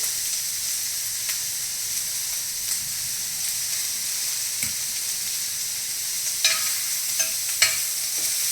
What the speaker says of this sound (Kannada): ಒಂದು ಇಂಚು ಶುಂಠಿ ಹಾಕ್ಕೊಂಡಿದ್ದೀನಿ